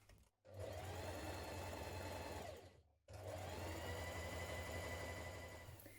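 A sewing machine runs in two steady bursts, stitching around a cut section of a boho-style dress with a short stitch length, a close, even motor hum with a brief pause between runs and no voices.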